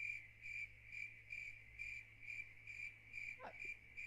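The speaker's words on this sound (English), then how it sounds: "Why are you playing crickets? Turn off the crickets!" Crickets chirp in steady, evenly spaced pulses, a continuous insect trill over low background hum, with a brief faint knock partway through.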